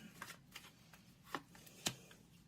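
Tarot cards drawn from a deck, quiet papery flicks and snaps, four or five short separate ones, the last the sharpest, in an otherwise hushed room.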